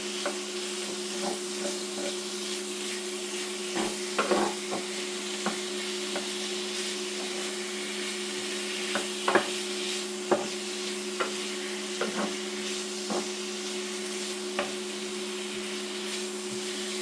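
Steady sizzling of chicken and mushrooms frying in oil in a pan, with occasional stirring clicks and scrapes over a constant hum.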